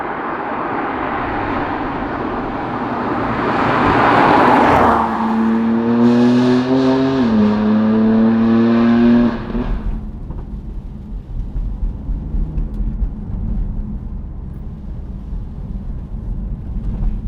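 A BMW M3 Touring's exhaust roars loudly as it revs up through a rising, shifting note, then cuts off abruptly, leaving rumbling wind noise behind.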